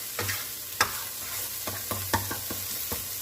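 Onions and garlic frying in olive oil for homemade pizza sauce, giving a soft, even sizzle broken by repeated sharp scraping taps as the pan is stirred.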